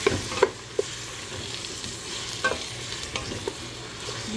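Fresh tomatoes are sautéed with onion in a pan, giving a soft, steady sizzle broken by a few sharp clicks and scrapes of stirring, close and fairly quiet.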